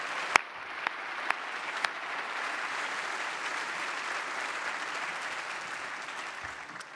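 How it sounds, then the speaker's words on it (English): An awards ceremony audience applauds, opening with a few sharp separate claps that quickly swell into sustained, even clapping from a full room before tapering at the end. "I think maybe we ought to give a little bit of a round of applause"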